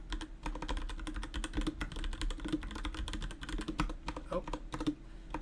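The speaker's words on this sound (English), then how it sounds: "if I can get a notepad out and just type it down" Steady, rapid typing on a computer keyboard, close and fairly quiet, a continuous patter of key clicks with no talking.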